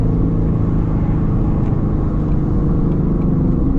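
A Shelby GT350 Mustang engine roars steadily while driving hard, a loud, continuous low rumble with slight rises in revs and no pauses.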